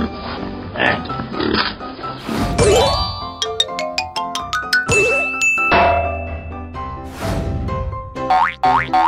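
Cartoon pig oinks among bright dings, boings and jingly chimes in an animated animal transformation sequence, loud cartoon sound effects following one another in quick succession.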